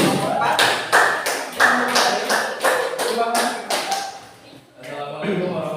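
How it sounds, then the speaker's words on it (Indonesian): Classroom students clapping for the fourth group in a rhythmic patterned clap, a series of sharp synchronized bursts, nearby and fairly loud, ending with a brief pause and murmur. "Tepuk tangan kelompok keempat."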